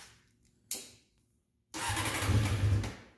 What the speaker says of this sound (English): Okay, so CBR is all back together and this is what it should sound like.